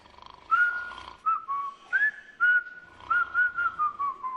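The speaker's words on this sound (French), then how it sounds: "Faut juste siffler." A person whistles a wavering tune in short phrases, the notes gliding up and down with brief pauses between them, fairly close and clear over a faint low background hum.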